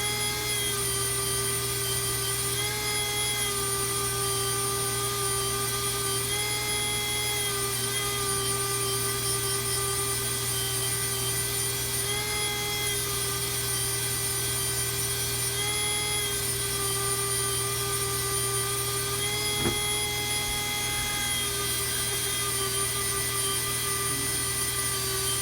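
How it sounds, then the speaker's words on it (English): A Dremel power sander runs continuously in a basement, a steady high-pitched motorized whine with a constant buzzing hum, close and loud, unbroken for the whole stretch with one brief tick partway through. "Just sanding away here."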